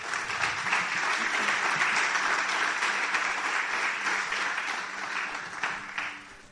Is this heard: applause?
yes